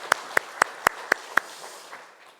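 A Sunday church congregation claps in unison, six sharp, evenly spaced claps about a quarter second apart, then fades into a quiet room tone.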